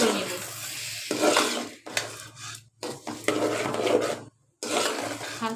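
Rice, lentils, salt, turmeric and chili powder are stirred in a pot for spiced khichuri, with a spoon scraping and clattering in uneven strokes over a soft sizzle, broken by brief pauses.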